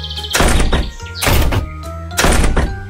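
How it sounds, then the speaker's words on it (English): Three doors slam shut one after another in a children's animated bedtime story, as the three little pigs shut themselves in against the wolf: loud, heavy thumps at roughly even intervals over a steady music bed. "All three of them closed their doors with a bang."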